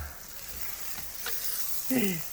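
Pork grilling over a charcoal fire in a traditional Korean firebox sizzles steadily with a soft crackling hiss, and brief voice sounds rise near the end.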